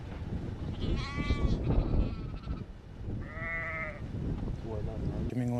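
Gissar breed sheep on a livestock breeding farm bleat in a few separate calls, fairly close, amid a noisy outdoor background with people talking.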